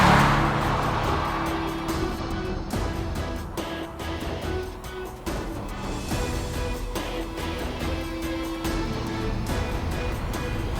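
An Audi S5 sports coupe under way, its engine droning steadily from inside the cabin with rising and falling revs as it accelerates and shifts, continuous and fairly loud with road noise beneath.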